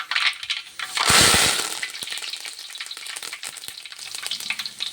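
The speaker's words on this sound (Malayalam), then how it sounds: "നമ്മുടെ കടുക് പൊട്ടി വരുന്നുണ്ട്" Mustard seeds burst and crackle in hot oil in a pan, a loud sizzling rush with sharp scattered pops that continue steadily without talk, the start of a Kottayam-style beef roast.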